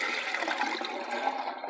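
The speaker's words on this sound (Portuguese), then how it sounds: "costumo despejar água." Water rushes loudly down a drain pipe, a steady gurgling pour lasting under two seconds with no talk over it, flushing the pipe after food scraps were dumped.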